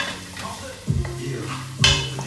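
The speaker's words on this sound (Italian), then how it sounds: "e dopo tutto friggiamo l'aglio e cipolla in due minuti" Garlic and onion fry in a pan with a soft steady sizzle while a utensil stirs and scrapes, making two sharper clanks against the pan.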